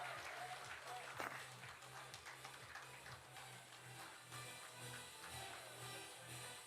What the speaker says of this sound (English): Can we have more applause, please?